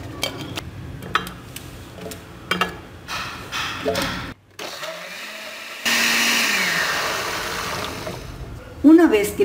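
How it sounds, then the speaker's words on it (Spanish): A kitchen blender whirs through okra, flaxseeds and water, its motor starting midway with a loud, steady buzz that holds for several seconds, after earlier clinks and knocks of utensils and dishes being handled. "Vamos a licuar la ocra con las semillas de linaza con un poco de agua por varios minutos."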